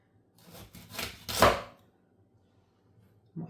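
A knife chops carrots for a vegetable broth on a board, a short burst of four or five dull knocks that ends in one louder stroke, followed by quiet and a faint thump.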